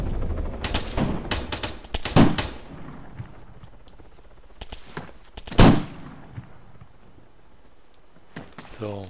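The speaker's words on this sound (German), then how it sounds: "Schießen die?" Gunfire from the military video game Arma 3, with scattered bursts and single sharp shots that sound fairly distant, two heavier volleys standing out, and quiet stretches between them.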